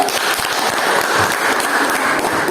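A classroom of students bursts into steady, dense applause that holds evenly throughout without a break.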